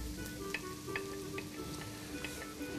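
Food sizzling in heated oil in a home kitchen, a quiet steady fry with soft crackles and pops, no talk.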